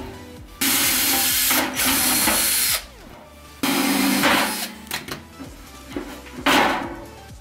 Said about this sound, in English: You just take two screws out that are holding this shield plate.